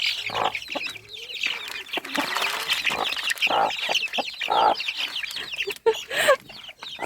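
Dense, overlapping peeping and chirping from a group of ducklings squabbling while feeding, with sharp cheeps close by and a few louder squawks near the end.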